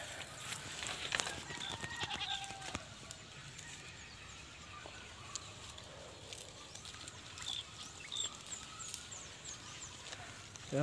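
Hungry goats on a farm with no grass left to graze bleat in short, faint calls scattered across a quiet outdoor background, with light rustling between them.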